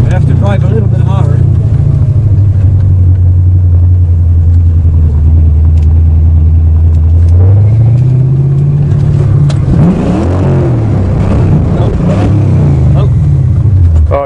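A modified 5.0 V8 in a 1973 Ford Capri with a broken differential is driven hard, its loud low engine drone holding steady, then rising and revving up near the end, with people talking over it.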